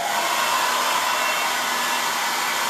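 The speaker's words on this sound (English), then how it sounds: "I'm gonna hit this with the blow dryer" A blow dryer drying a craft project runs steadily at close range, a constant loud airy whir with no pauses and no voices.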